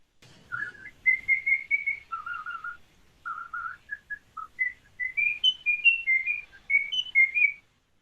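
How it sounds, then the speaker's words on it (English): A cockatoo whistles Mozart's Queen of the Night aria in clear, bright, melodic notes. The short phrases follow one another with brief pauses, close and alone without any other sound. "No, that's actually a type of cockatoo."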